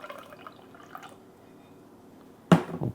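Iced tea resembling an Arnold Palmer is poured into a glass in a short, close splashing burst near the end, after a quiet stretch with faint background murmur.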